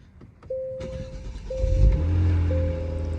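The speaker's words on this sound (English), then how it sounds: "I'm turning the car on." A 2022 Genesis G70 3.3T engine cranks and turns over, then settles into a low, steady idle close by, with a repeating chime sounding in the background.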